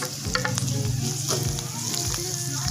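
Chicken pieces frying in a hot pan, a steady loud sizzle with crackling spatters and occasional scraping as they are stirred, no talk over it.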